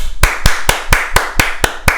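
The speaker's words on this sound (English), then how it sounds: "Give them a round of applause." Sharp, evenly spaced claps, about eight in two seconds, loud and close with no talking. They read as one person clapping in a steady rhythm, not a full crowd applauding.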